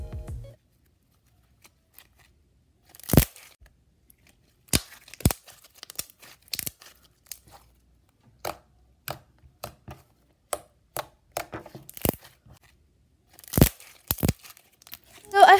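Slime made with Caliber school glue gives off sharp, scattered clicks and crackly pops as it is pressed and stretched, coming in irregular bursts close by with quiet gaps between them.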